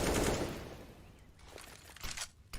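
Counter-Strike gunfire on Inferno, with a loud burst of shots at the start that fades into scattered quieter pops and a few sharp later cracks.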